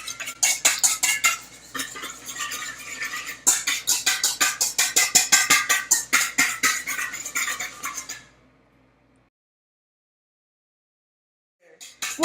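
A whisk beats cucumber salad dressing with garlic in a bowl, a fast, steady run of close metallic clinks and scrapes for about eight seconds before stopping into silence, with one brief clatter at the end.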